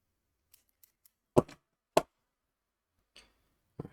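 Small cutters trimming the end of a 5 volt wire during a keyboard LED strip build: a few faint ticks, then two sharp, close snips a half second apart, and later two quieter clicks.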